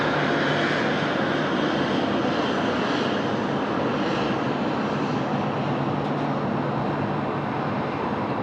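A Rex Boeing 737 jet taking off at Sydney Airport, a loud sustained engine roar of broadband noise holding steady across the whole stretch, heard from the ground nearby.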